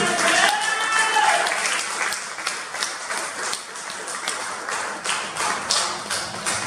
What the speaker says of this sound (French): Acclame la parole de Dieu.